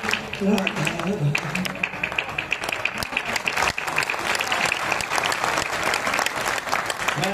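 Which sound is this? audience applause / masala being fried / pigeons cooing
audience applause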